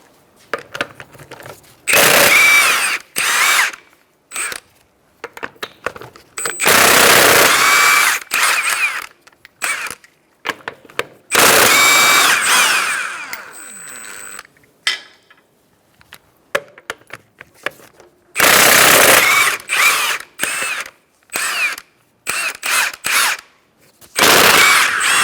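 An impact wrench with a 21mm socket zips off front wheel lug nuts on a 2014–2019 Kia Soul, in several loud, rattling bursts of a few seconds each, separated by short quiet gaps.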